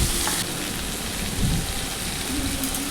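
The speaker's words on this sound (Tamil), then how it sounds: "அரிஞ்சு வச்ச மாங்காவை போட்டுட்டு நல்லா கிளறி விடுங்க" Chopped raw mango sautéing with mustard seeds in hot oil, heard as a loud, dense, rain-like sizzle throughout, with no talking.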